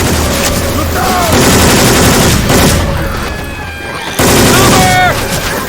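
Rapid bursts of gunfire in Left 4 Dead 2, modded with Syphon Filter weapon sound effects, ring out loud and close, with repeated shots, booms and clattering action under game noise.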